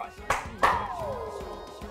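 Two sharp hand claps spaced apart in a living room to summon someone, each followed by a faint ringing tone, with talking between them.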